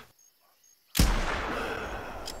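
After near silence, a single loud rifle shot at a banteng in theHunter Classic booms out close by, followed by a long rolling echo that fades slowly.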